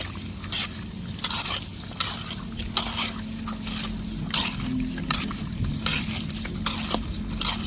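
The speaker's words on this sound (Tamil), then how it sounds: "இப்போ நல்லா மீனை உப்புக்கல் போட்டு உரசி கழுவிடுவோம்" Fish are scrubbed and washed with coarse rock salt, giving a steady rhythmic series of gritty rubbing and squishing strokes with occasional clinks, fairly close and continuous throughout.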